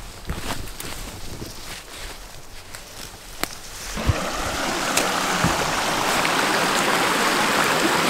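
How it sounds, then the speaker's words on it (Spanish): Rushing river flow near a waterfall in the Tanzanian bush, a steady broadband water roar that swells from about four seconds on and holds loud and close, with a few scattered clicks and bumps of movement early on. "ya hemos encontrado el río."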